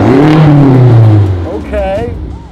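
A BMW M5 with a modified exhaust, switched into Sport Plus mode, revs loudly close by as a deep engine roar that climbs and falls. A voice exclaims over it partway through.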